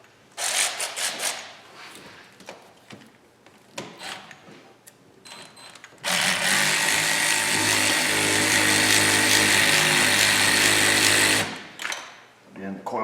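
Harbor Freight Earthquake impact wrench rattles loose coil pack bolts in a long, loud continuous burst on a Honda engine, preceded by clinking tool handling and shuffling nearby.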